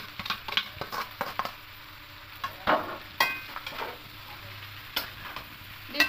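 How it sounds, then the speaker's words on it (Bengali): Pasta with vegetables stirred in a pan, a spoon scraping and clicking in irregular bursts against the metal over a soft, continuous sizzle of frying. "দিয়ে খুব ভালো করে সবজির সঙ্গে মিশিয়ে নেব"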